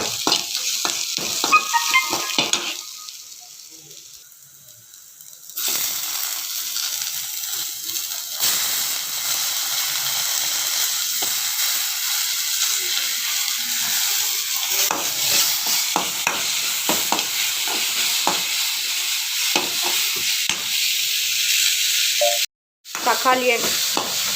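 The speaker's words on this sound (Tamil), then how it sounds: "தக்காளி வதக்கிக்கலாம்." Chopped tomatoes and onions sauté in a hot pan with a continuous loud sizzle and hiss, punctuated by frequent stirring scrapes and clicks, with no voices.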